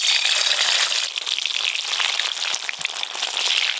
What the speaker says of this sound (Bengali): এবার পনিরগুলো ভেজে নেব